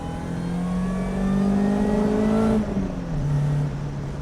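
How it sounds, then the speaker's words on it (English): A supercharged M42 engine in a BMW 1600-2 with a short diff accelerates hard in second gear, its rising whine climbing steadily and then dropping at a gear change, loud and close inside the car, with no talk. "this absolute riot of a supercharged M42 going through a really rather light or really rather short diff"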